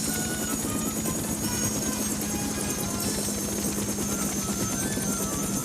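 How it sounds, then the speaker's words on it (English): Cartoon helicopters circling overhead, a continuous loud rotor drone with rapid chopping pulses and a steady engine hum, with no voices. "The choppers are circling."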